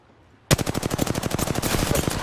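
Rapid automatic gunfire in Apex Legends erupts abruptly and continues as a loud, steady stream of evenly spaced shots, close and sharp, with no talking over it.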